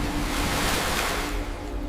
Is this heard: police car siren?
no